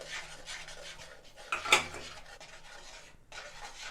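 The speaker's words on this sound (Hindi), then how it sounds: "अब इसमें 2 पिसे हुए टमाटर ऐड करेंगे और इसे प्याज के साथ अच्छे से मिक्स कर लेंगे" Chopped tomatoes stirred into golden-fried onions in a pan, with a metal spoon scraping and clinking against the pan and one sharper clatter midway, over a faint background hiss.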